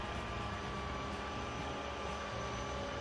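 A diesel train runs in the video game Transport Fever, a steady dense engine rumble and rolling drone with no breaks and no speech over it.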